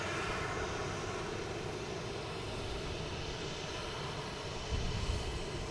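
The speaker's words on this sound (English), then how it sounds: "Here's American Airlines coming in from Chicago in" An American Airlines A319 arriving from Chicago at Boston Logan makes a faint, distant, continuous engine rumble and hiss, holding steady throughout.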